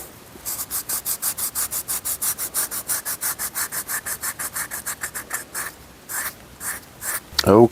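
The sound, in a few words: sanding leather edges with 400 grit sandpaper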